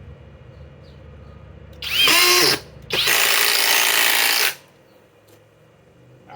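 A FLEX Quick Eject impact driver on a 2.5 battery runs in two loud bursts, a short one then a longer steady whir, close up over a low background hum.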